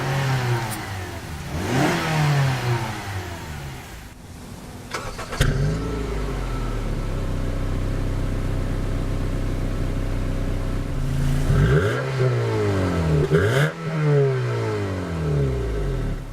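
A 2012 Honda CR-V EX-L starts up and then idles steadily, with a couple of revs rising and falling near the end. The engine is fairly quiet and close.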